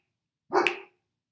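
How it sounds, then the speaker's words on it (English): A pet dog lets out a single short, loud bark that stands alone against silence. "Sorry, that's my dog."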